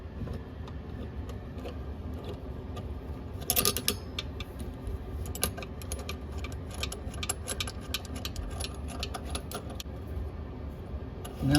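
Small metal clicks and rattles come from mounting nuts being tightened by hand under a YardMonet bathroom sink faucet, with a brief cluster of sharper metallic jingles near the start and faint, steady rustling throughout.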